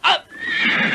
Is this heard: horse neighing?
yes